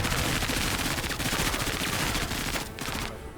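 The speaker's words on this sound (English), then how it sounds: "then Pike can just try and shoot these guys again" Dense, continuous video game gunfire from Menace, a rapid machine-gun-like stream of shots with loud, sustained bursts that fill the whole stretch and ease off slightly near the end, with no voices over it.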